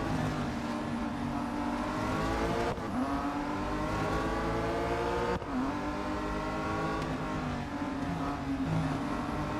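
Race cars roar continuously in the Real Racing 3 video game, engines loud and sustained with rising gear-shift sweeps and brief dips between shifts, no voices over the steady racing noise.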